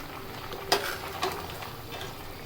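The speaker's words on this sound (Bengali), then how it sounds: "ভালো করে নেড়ে চিংড়িগুলো চারদিকে ছড়িয়ে দেব" Fried prawns stirred into a drumstick curry in a pan: a soft, steady simmering sizzle with two distinct scraping clatters of a utensil against the pan, close and fairly quiet, with no talking.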